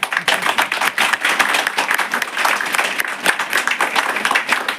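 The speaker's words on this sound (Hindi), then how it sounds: "ताली जोरदार।" An audience at a lifetime achievement award ceremony claps loudly and energetically, a close, dense burst of applause that carries on throughout.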